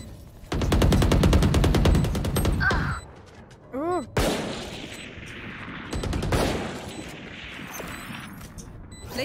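Several swarm grenades go off in Valorant as loud rapid bursts of crackling shots that rattle for a couple of seconds, pause, then come again in two more volleys, with short electronic chirps between them.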